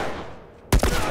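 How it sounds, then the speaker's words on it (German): A single loud, sharp gunshot in The Last of Us Remastered cracks out after a quieter lead-in, followed by a short reverberant tail. "Der letzte Schuss."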